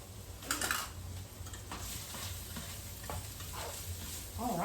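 Linguine clam sauce stirred in a hot pan, soft sizzling under scattered scrapes and clinks of a utensil against the cookware, close and fairly quiet, no talking.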